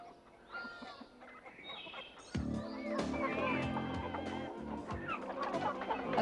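Chickens cluck in a coop, first faint scattered calls, then a sudden louder chorus of close, busy clucking and squawks that carries on to the end, with a voice briefly under it.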